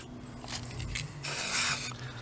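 Short hissing bursts of lithium grease sprayed from an aerosol can during a Kawasaki ZX12R clutch install, a faint spurt followed by a stronger, sustained spray lasting about half a second.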